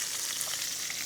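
Sea bass sears in a hot pan with a steady, dense, hissing sizzle that stays loud and even throughout, with no talking.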